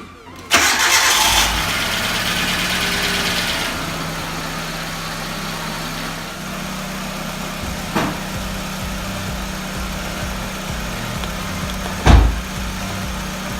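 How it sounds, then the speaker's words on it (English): A car engine cranks and fires up after an oil change, revving briefly before settling into a steady close idle, with a couple of faint clunks partway through. "The last thing we're gonna do is turn on the car to get the oil circulating."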